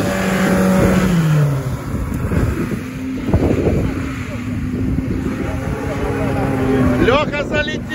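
An off-road car's engine revs and roars nearby at a trophy-sprint race in Krasnodar, rising and falling in pitch, with wind buffeting the microphone and people's voices underneath.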